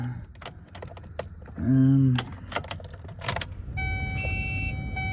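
A truck engine, a new 632, cranks with a brief whirring groan, a few clicks follow, then the motor catches and settles into a steady humming idle.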